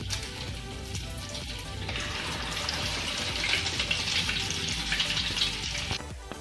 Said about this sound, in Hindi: इसी तरह ये जो बचे हुए पीसेस है अपने, ऐसे ही हम फ्राई करेंगे।